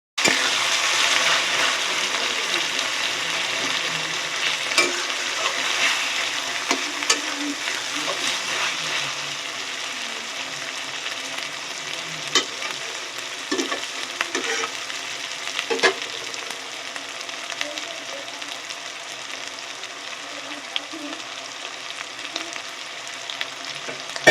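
Tomato masala for chicken curry sizzles steadily in a pan, with continuous frying crackle and intermittent scraping and stirring strokes close up throughout.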